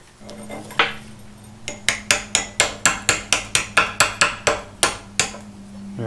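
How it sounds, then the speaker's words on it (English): Hammer strikes on a metal piece being driven into a truck's rear axle during a Toyota Tacoma solid axle swap, a steady run of about fourteen loud, ringing blows close by, with a couple of earlier isolated hits and a low hum underneath. "we're going to hammer that piece in there"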